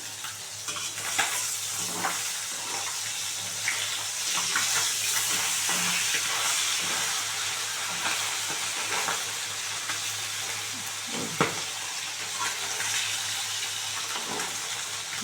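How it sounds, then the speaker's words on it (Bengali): Tengra fish fry in hot oil with a dense, continuous sizzle, close and loud, punctuated by occasional sharp pops of spattering oil and a few utensil knocks, with no talking. "ফাটছে দেখো বাবারে হাত ফাট করে ফাটছে"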